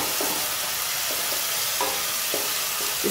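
Onions cook in a chicken curry gravy, a constant close sizzle broken by regular scraping stirs every half second or so, no voices.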